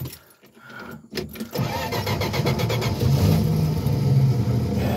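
A 1965 Plymouth Barracuda engine cranking briefly and then catching, settling into a loud, steady idle that grows slightly stronger, recorded up close with no talking.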